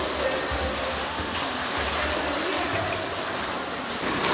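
Steady, rushing splash and churn of water around a girl named Lyuba learning to swim, a dense wash of noise with no clear strokes and no talking.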